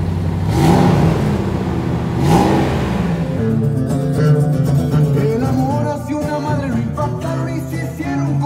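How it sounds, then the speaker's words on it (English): A car with a newly fitted aftermarket exhaust revs loudly and close, two sharp throttle blips rising and falling, then settles into a rough, rumbling idle. "rev it a little bit"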